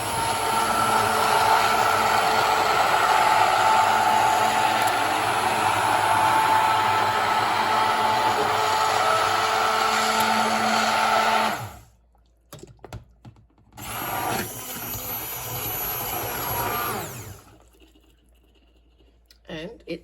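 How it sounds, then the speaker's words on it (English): A loud, steady motorized whir of a stick blender blending tomato butter, running continuously, then cutting out, starting again briefly, and stopping. "grab yourself a stick blender"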